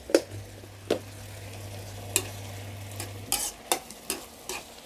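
Chopped soft pork ribs stir-fried with sugar in a pan, sharp spatula scrapes and knocks landing at irregular intervals over a low sizzle and a steady hum, close up with no voices.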